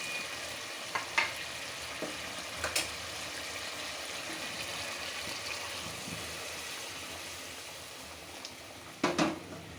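Fish and potato curry sautéing in a pan, a steady low sizzle with a few sharp clinks and scrapes of a spoon against the pan; no voices.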